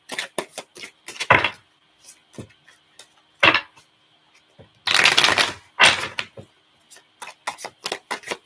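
Tarot cards being shuffled in irregular bursts of crisp riffling and slapping, with two longer, louder flurries partway through and quick taps between, close and with no voices.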